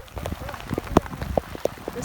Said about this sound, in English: It's just a field of hail.